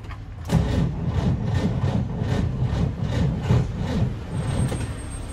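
A stalled Volkswagen Beetle (Fusca) broken down in the middle of an avenue cranks up close and loud. The starter churns in a rapid, even rhythm for several seconds without the engine catching.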